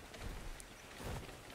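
Steady rain falls in the survival video game ARK: Survival Evolved, a constant soft, even hiss at low level with no distinct thunder, heard alone.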